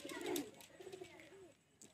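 An old-bloodline male pigeon coos softly in a loft, giving low, rolling coos close by with faint rustling around them.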